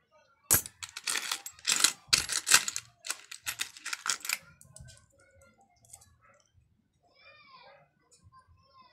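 Old coins from a jewelry box clink and rattle as they are handled, with bright metallic taps clustered in the first half, then fainter scattered clicks and soft voices toward the end.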